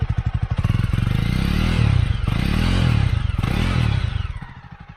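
A Jawa 42 motorcycle engine idles and revs up close with a deep, even thumping beat, swelling and easing over a few seconds before fading at the end.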